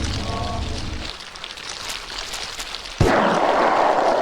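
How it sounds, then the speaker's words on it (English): Rain falls in the Silent Hill 4: The Room video game as a steady hiss, with a low tonal sound fading early and the rain swelling sharply louder about three seconds in. "So it's kind of raining here for some reason"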